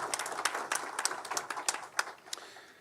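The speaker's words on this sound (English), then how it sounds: "Please give them a round of applause." Scattered audience applause at the Governor of Maryland's 2025 Preakness announcement event, a modest crowd clapping in an indoor room with sharp individual claps standing out, brief and fading after a few seconds with no talking.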